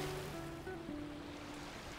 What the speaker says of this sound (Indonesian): Di sana pusaran air itu.